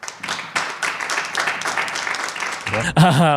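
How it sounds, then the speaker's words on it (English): An audience at a live startup pitch event applauds to welcome a founder on stage, a dense and fairly loud patter of many hands that ends abruptly as a voice begins speaking. "let's welcome founder number 2 with a round of applause"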